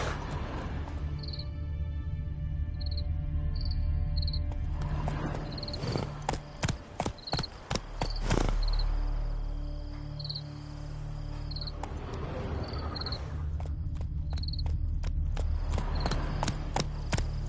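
Horse Roach from The Witcher 3 gallops in rhythmic hoof clip-clops, with the beats pausing and then resuming, over a steady bed of crickets and insects in a countryside setting, with an occasional soft whinny.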